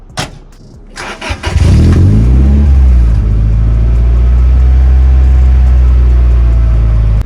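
A Datsun 620 pickup with a swapped engine cranks briefly and fires up, then settles into a loud, steady idle close by with a low rumbling drone.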